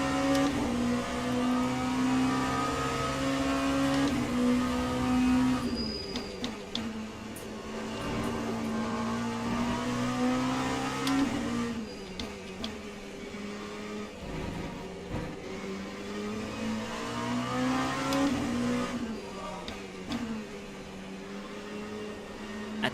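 Race cars in the sim game Le Mans Ultimate, a Toyota and an LMP prototype, run in multiclass traffic at Fuji with a continuous engine drone that rises and falls through revs and gear changes. No one speaks.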